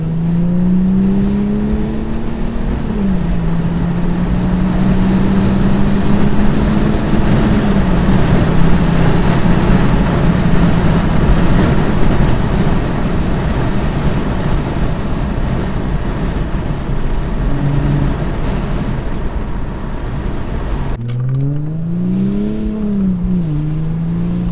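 Audi 3.0 TDI V6 diesel with the intake flap removed and a larger OEM intake pipe, revving up and holding a loud, gruff drone for about twenty seconds, then cutting off and revving again, close and without speech.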